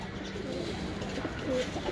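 A breeder pigeon coos softly a few times near the end, low throaty calls against a busy background murmur.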